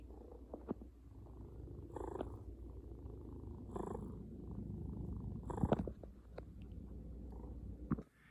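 A cat purrs steadily and close up, a low continuous rumble with a few small rustles and soft clicks scattered through it.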